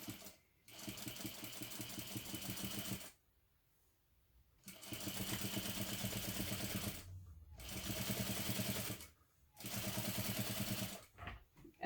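A sewing machine top stitches along both sides of a bag seam at a long stitch length, running in steady rapid bursts broken by several short pauses, close and alone.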